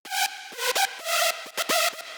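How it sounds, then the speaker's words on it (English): Aggressive saw-wave synth lead from an FL Studio big room drop, bright buzzy sustained notes in short chopped phrases with quick gaps, loud and alone. "And lead 4 is called Aggro Saw. It's just a really aggressive saw."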